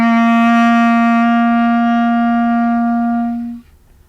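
A clarinet sustains a single low C, fingered with three fingers and the thumb key, as one steady, clear tone for about three and a half seconds before stopping, played alone with no talking.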